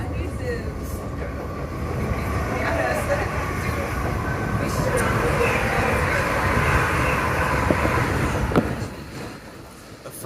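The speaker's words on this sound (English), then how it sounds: "A faster train overtaking a slower train." A faster South Western Railway train overtakes a slower one on the Waterloo to Hampton Court line. A broad, continuous rumble and rushing roar builds and holds, then drops away sharply near the end, with faint background voices.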